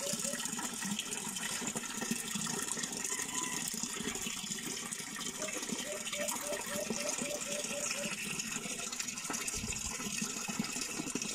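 Water from a DIY-installed pump gushes into a container in a steady, loud rushing stream that continues without a break, with faint speech and other background sounds under the flow.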